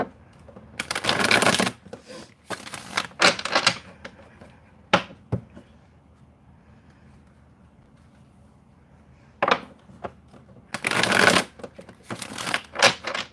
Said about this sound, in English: I'm all shuffled up and ready.